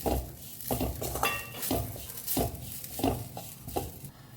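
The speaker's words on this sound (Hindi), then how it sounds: "इसी में डालूंगी ये फ्राई किया हुआ प्याज और लहसुन। ओके, और इसे और एक मिनट के लिए मैं इसको भून लूँगी।" Coconut with fried onion and garlic roasting in a pan, repeated scraping and clinking of a spoon against metal cookware in an uneven rhythm, close and moderately loud over a faint sizzle.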